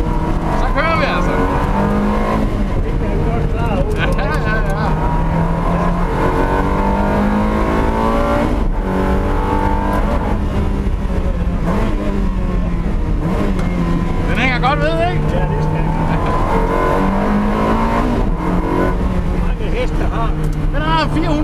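Ferrari 360 Challenge race car, built only for racing with about 430 horsepower, driven on a track, its loud engine howling steadily with rising and falling revs through shifts, heard from inside the car under occasional talk.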